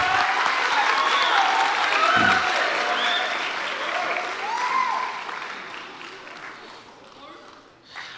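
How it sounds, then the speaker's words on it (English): An audience at a junior high school spring band concert applauds the students, a dense, sustained clapping with voices mixed in that gradually fades out. "So let's give all the students a round of applause,"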